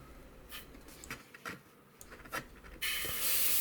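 A spray can of primer puffs thin coats onto a 1/48 scale Eduard F4F-4 Wildcat model in short, soft hissing bursts, ending in a louder, sustained spray.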